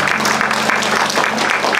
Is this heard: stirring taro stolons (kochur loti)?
no